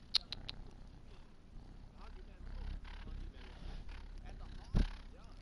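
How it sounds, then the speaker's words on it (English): A cat purrs close by, a low, soft rumble that swells and fades over several seconds, with a few brief handling thumps and rustles. "Can you hear him purring?"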